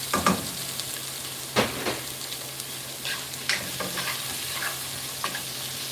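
Tomatoes stirred in a hot frying pan give a steady close sizzle, with scattered scraping and clacking stirs of a utensil against the pan.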